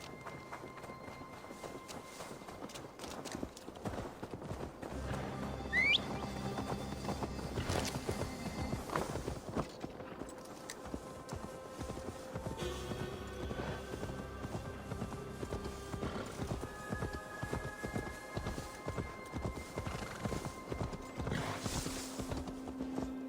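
Horse hooves clip-clopping at a steady walking rhythm in the video game Assassin's Creed Valhalla, mixed with soft game music and ambient mechanical sounds for over twenty seconds.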